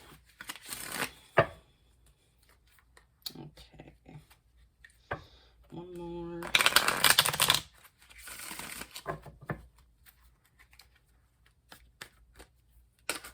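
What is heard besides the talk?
shuffling tarot cards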